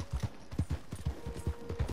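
Horse hooves clip-clop in Red Dead Redemption 2, a quick, fairly close, regular rhythm of hoof strikes at a walking pace over faint ambient background.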